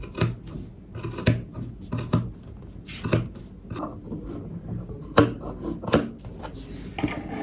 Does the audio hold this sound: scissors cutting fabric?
yes